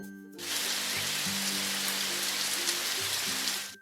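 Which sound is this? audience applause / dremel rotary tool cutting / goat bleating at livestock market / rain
rain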